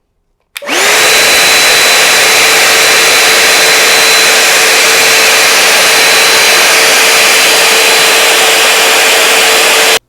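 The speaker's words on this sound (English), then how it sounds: "You can take your vacuum and try to get as much as you can out" A loud vacuum cleaner switches on abruptly and roars steadily with a constant whine while sucking around the rim of a SNOO bassinet during repair, then cuts off at the end.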